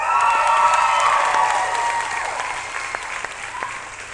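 School staff at a professional development gathering applaud and cheer, a loud burst of dense clapping with whoops that gradually tapers off.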